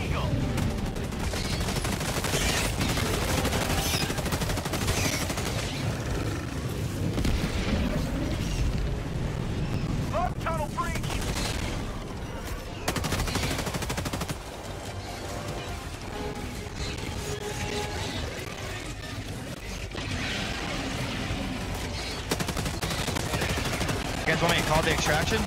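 In Helldivers, a called-in 100K bomb airstrike produces heavy, continuous booming explosions and rattling gunfire that last the whole stretch, loud and dense, with voices talking underneath at times.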